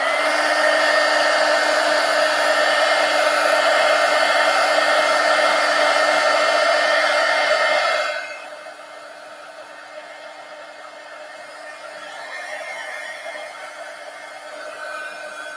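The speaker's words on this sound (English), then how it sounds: "now let me dry this with my heat gun" A heat gun blows steadily over a journal page, a loud continuous whoosh for about eight seconds before it cuts out, leaving only faint room tone.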